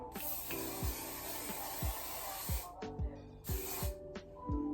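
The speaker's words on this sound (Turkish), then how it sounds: "Şimdi birazcık sprey sıkacağım ki akmasın" Hair spray from an aerosol can hisses onto freshly blow-dried hair in repeated bursts, two long sprays broken by short pauses, close and steady with faint background tones beneath.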